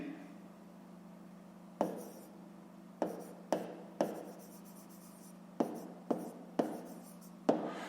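Pen writing numbers on paper while a fifth-grade math exercise is worked out, quiet close scratchy strokes arriving in about ten short bursts separated by pauses over a low steady hum.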